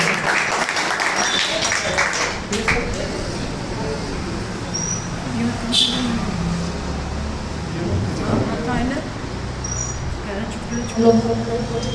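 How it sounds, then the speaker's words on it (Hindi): Audience clapping at a school Shaheedi Diwas program as a class 6 student is welcomed to recite a poem; dense, steady applause fills the whole stretch with some voices mixed in. "एक बार पहले ताली बजा दो"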